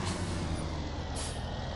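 Heavy vehicle air brakes hiss in a driving video game during a brake check, a steady loud rushing blast lasting the whole moment over low engine rumble, with a brighter burst of air near the end.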